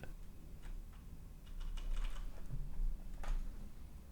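Rapid, uneven typing on a computer keyboard close by, light clicks and taps in short bursts, with a steady low background hum and no voices.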